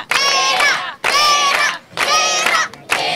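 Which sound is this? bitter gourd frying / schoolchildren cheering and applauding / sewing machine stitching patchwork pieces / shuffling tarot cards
schoolchildren cheering and applauding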